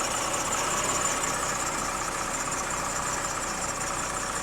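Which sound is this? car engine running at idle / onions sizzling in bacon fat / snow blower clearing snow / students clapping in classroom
car engine running at idle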